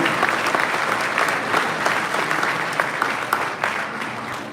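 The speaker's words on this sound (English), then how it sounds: "big round of applause for everybody" A crowd at a Hot Wheels collectors convention finale claps steadily in dense, even applause with no talking over it.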